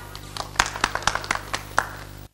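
Audience applause at a staged Azerbaijani television variety show in Sabirabad, heard as a short burst of scattered claps, moderately loud and close, fading out after about two seconds over a steady low hum.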